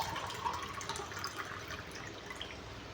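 Water poured steadily over ground coconut to rinse it, a continuous close splashing trickle running for the whole stretch with no talk.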